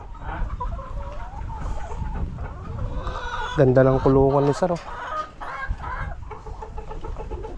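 A rooster crows loudly in a long, wavering call while hens, including Black Australorps, cluck around it; someone speaks briefly before the crow.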